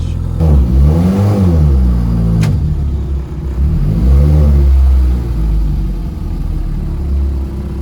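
A fully built Ford Focus ST with an exhaust leak at the turbo flange idles loud and close, its engine revved twice in rising and falling sweeps before settling back to a rough, steady idle.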